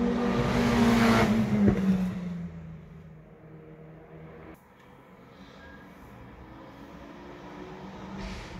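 A Lotus rally car on a Targa Tasmania tarmac stage at Weldborough Pass roars past loudly, its engine note dropping as it passes, then fades into the distance before another engine rises faintly.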